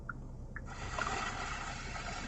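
Ocean-wave nature ambience plays from a 2021 Genesis GV80 3.5T's ambient sound mode, a soft, faint washing hiss with gentle gurgling swells filling the cabin quietly.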